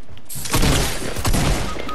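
Gunfire rattles in a mobile battle-royale shooter, a dense burst of rapid, overlapping shots and impacts that is loud and close and lasts the whole moment without talk.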